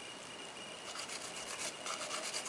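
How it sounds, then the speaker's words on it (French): A nail file scrapes a rhinestone off gel nails in a steady, close rasping rub. The strokes are soft and quiet and grow a little more pronounced toward the end. "Donc je lime grossièrement"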